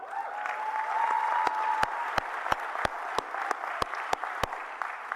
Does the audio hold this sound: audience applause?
yes